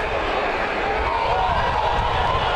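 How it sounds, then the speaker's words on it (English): Crowd noise at Levi's Stadium during a San Francisco 49ers touchdown, a dense, loud, sustained roar of many voices that stays full and steady throughout without clear individual shouts. "So here at Levi's, a 49er touchdown could sound kind of like this."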